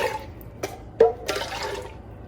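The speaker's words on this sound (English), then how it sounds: "with 1/4 of a cup or 1/4 of a can, as you've seen in my previous videos, of water. You can swish them around like this." Water swished around inside emptied tomato cans while making Sunday gravy: a few brief sloshing splashes and drips stand out against a low background hum, with no one speaking.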